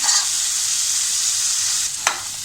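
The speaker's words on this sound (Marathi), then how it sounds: "मटार आणि बटाट्याला तेल सुटेपर्यंत परतून घ्यायचं आहे" Peas and potatoes stir-frying in hot oil give a loud, steady sizzle close by, with a single sharp scrape of the spatula near the end and no voices.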